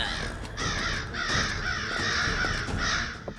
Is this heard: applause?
no